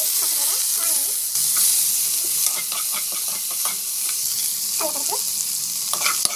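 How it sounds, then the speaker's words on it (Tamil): Mustard seeds, cumin, curry leaves, coriander, green chillies and onion crackle and sizzle in hot oil, with a steady loud frying hiss, occasional stirring clinks and popping bursts, close up and without speech. "ஆயில் போட்டு ஆயில் நல்லா காய்க்கும். கடுகு, சீரகம், கருவேப்பிலை, கொத்தமல்லி, பச்சை மிளகாய், ஆனியன்"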